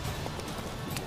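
Rapid hoofbeats of a horse in The Witcher 3: Wild Hunt clatter in a busy, dense wash of noise, the horse moving quickly with a faint voice underneath.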